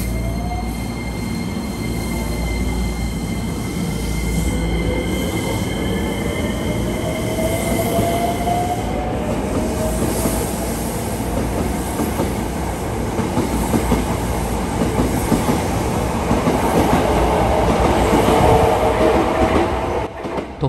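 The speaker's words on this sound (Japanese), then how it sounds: "特急列車の乗降が終了し発車。" A Hankyu Kyoto Line limited express train pulls away from a station, its engine hum and rumble building steadily, with rising whine tones, wheel squeals and rhythmic clacking over the rails, loud and close.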